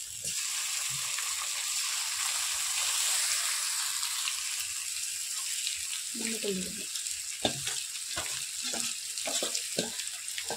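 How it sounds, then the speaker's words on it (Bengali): Spiced small fish slide into hot oil with potatoes and crackle in a steady sizzle. Partway through, a run of sharp utensil scrapes and knocks joins in close by. "এই মশলা মাখানো মাছগুলি আমি তেলের মধ্যে দিয়ে দিচ্ছি"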